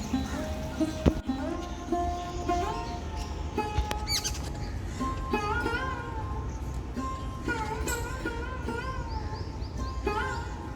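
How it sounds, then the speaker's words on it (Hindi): Jungle babblers, a noisy, quarrelsome bird, call in squeaky, chattering bursts, several overlapping calls scattered through the clip against a steady background hum, in a local park. "सतबहिनी बैबलर। काफ़ी लड़ाकू और शोर मचाने वाला पक्षी है"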